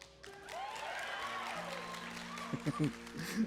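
Applause from an audience at a Cinderella's Castle show swells and holds briefly while a voice speaks over it near the end.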